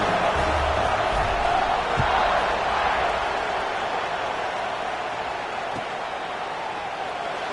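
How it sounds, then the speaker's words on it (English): A football stadium crowd buzzes with a steady, broad roar after a score, loud and continuous throughout, with a couple of brief thuds near the start and a faint voice in the mix. "this crowd is buzzing after that last score"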